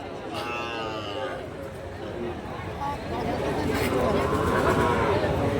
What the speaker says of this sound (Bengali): হাটে যে অসংখ্য বলদ গরু উঠছে দেখতে পাচ্ছেন, হাড্ডিসার বলদ গরু